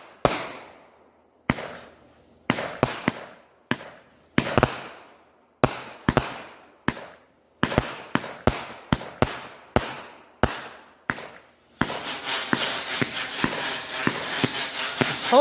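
A fireworks cake firing its shots, a rapid irregular series of sharp crackling bangs that grows denser until it becomes a continuous roar of bursts at the end, fairly close and loud.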